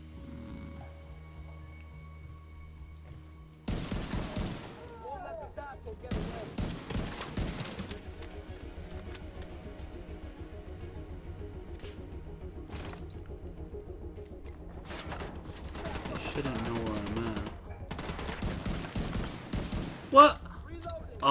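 Gunfire aimed at a sniper in the video game The Division 2, with repeated rapid bursts of shots breaking out between quieter stretches of low background game ambience.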